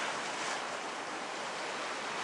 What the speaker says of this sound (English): So the water comes in here and runs up the cliff and makes a clap like a thunder.